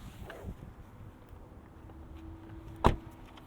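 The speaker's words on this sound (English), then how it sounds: "gonna get out and pop the hood" Someone climbs out of a 2021 Kia K5 LXS AWD, with faint shuffling and movement followed by one sharp, loud clunk, like a door or the hood latch, against a quiet background.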